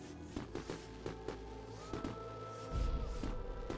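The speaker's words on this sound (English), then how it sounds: "Oh, it's a firework that he threw in." A firework thrown in the video game Beacon Pines, a series of crackling pops and bursts followed by a deeper, louder boom near the end, with no voices.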